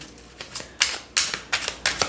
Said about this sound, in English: Gotta shuffle this one up